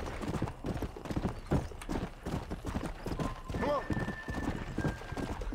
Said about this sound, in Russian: вот еще лошадка бегает